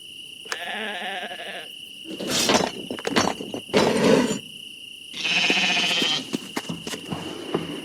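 Sheep bleats from the puzzle adventure game Lost Lands 9, several distinct wavering cries spaced over a few seconds, clear and close with short clicks and effects in between.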